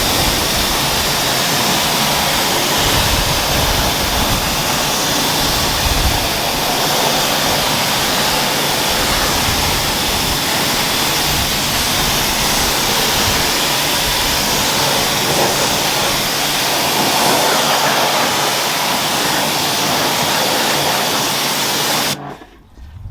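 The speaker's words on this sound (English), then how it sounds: "as you can probably hear, I've got a problem with my pressure washer. Keeps kicking in," A pressure washer rinses car wheels with a loud, steady hiss of spray that runs close and unbroken, then cuts off abruptly at the end.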